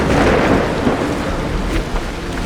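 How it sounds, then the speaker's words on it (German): Steady heavy rain and a low thunder rumble in the video game Assassin's Creed Odyssey, a dense continuous downpour filling the scene without speech. "War klar, dass ich jetzt im Regen stehen muss."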